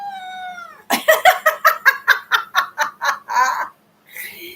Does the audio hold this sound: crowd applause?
no